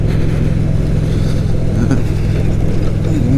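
Motorcycle engine droning steadily while riding over a bumpy road, a loud continuous low rumble close by with no pauses.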